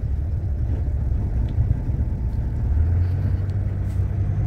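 A car in third gear with the clutch released after a driveshaft center bearing replacement, giving a steady low engine and drivetrain rumble that swells slightly toward the end, with no talk.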